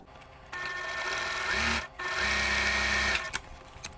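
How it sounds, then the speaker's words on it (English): A sewing machine stitches down the diagonal of a quilt block in two bursts of rapid, whirring needle action separated by a brief pause, close and alone. "I just flip it around and I sew down the diagonal again"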